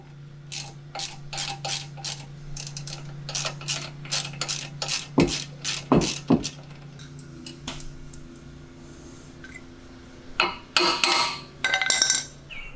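A wrench ratchets out the 10mm lower bolt of the lowering link, or height sensor link, on an Audi C7 in repeated bursts of close, crisp clicking, with a few sharper metallic knocks midway and a final flurry near the end.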